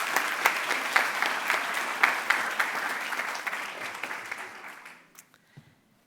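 Applause from an audience at a school board meeting honoring students, a dense burst of clapping that holds steady, then thins out and fades to a few scattered claps.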